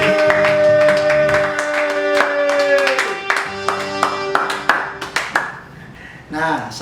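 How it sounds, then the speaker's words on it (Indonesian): An audience at a Christian youth service breaks into applause for Jesus, with quick scattered claps that grow denser over a sustained tonal backing of music and voice, then trail off near the end. "Beri tepuk tangan buat Tuhan Yesus"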